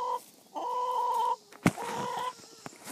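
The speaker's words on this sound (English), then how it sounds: "those are my chickens" Backyard pet chickens cluck and cackle in drawn-out, loud bursts close by, with a short sharp knock between calls and no speech.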